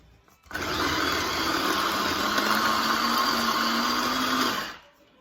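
Blender whizzing a hot spicy pepper relish marinade for Caribbean jerk chicken pasta, a loud steady whir that starts abruptly, holds for about four seconds with slowly rising pitch, then cuts off.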